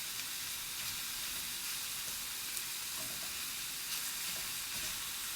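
Minced pork sizzles and fries in a pan as its fat renders, giving a steady, close crackling hiss with small pops. No one speaks over it.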